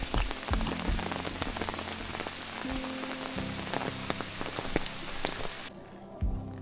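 Steady rain patters on surfaces, dense and continuous, with scattered louder drops and low background rumble; no voices.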